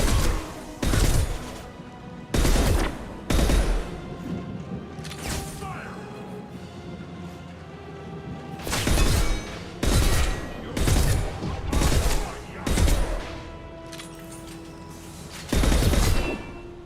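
Gunfire in the video game Mass Effect 2 comes in repeated loud, sharp bursts roughly every second or two, punchy and close, separated by brief quieter gaps filled with background game ambience.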